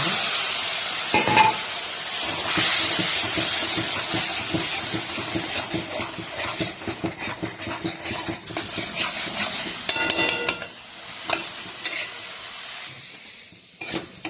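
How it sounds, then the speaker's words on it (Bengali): Ground coriander, cumin and chili powder fry in a pan with a close, loud, hissing sizzle, crackling bursts and stirring scrapes, fading toward quieter spitting near the end, with no voices. "এদিকে মশলাটা ভাজা হয়ে গেছে"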